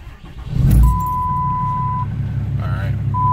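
A deleted 2008 Cummins diesel truck engine cranks and fires with a loud, low thump, then settles into a steady, close idle rumble while a dashboard chime tone sounds twice.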